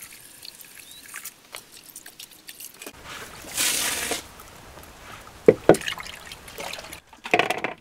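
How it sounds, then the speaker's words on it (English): Black trumpet mushrooms are rinsed by hand in a bowl of water, giving quiet sloshing and trickling with a brief swirl of splashing and a few sharp drips and clinks near the end. "I'll just do that one quick rinse in a bowl of water"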